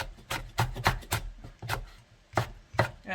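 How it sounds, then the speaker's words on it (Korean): A knife slicing three Cheongyang chili peppers diagonally on a board for japchae, making crisp, close, uneven chopping taps in quick runs with short pauses between them. "이렇게 3개 어슷하게 썰어가지고 3개 정도 넣어줄게요"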